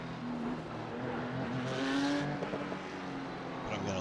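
A Porsche 911 Cup (992.2) race car in iRacing at Miami International Autodrome runs at reduced speed with a damaged, poorly handling chassis, its engine droning steadily with shifting pitch and a brief tire squeal, close and continuous.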